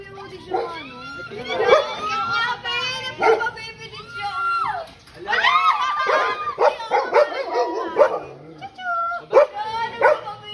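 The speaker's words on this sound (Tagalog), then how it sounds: "Poodle yan, poodle." A small poodle yips and whines excitedly in short bursts, mixed with people talking close by.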